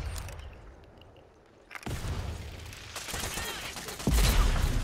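Gunfire from the online shooter game Rogue Company, with sniper shots among rapid bursts and booms that grow louder toward the end, mixed with game effects and some voice.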